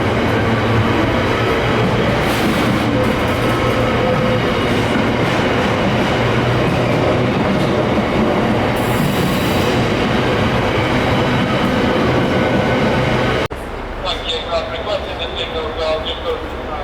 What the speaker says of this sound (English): just as soon as this freight train has cleared